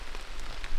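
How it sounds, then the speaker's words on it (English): Heavy rain pours down in West Virginia woods during a bow hunt, a steady, dense hiss of drops on surfaces heard briefly and fairly close. "As you guys can tell, it's pouring the rain down"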